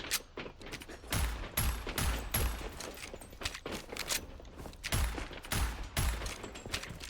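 A weapon in the shooter FragPunk fires in three-round bursts, sharp clustered shots repeating rapidly and loudly up close, mixed with faint mechanical clicks.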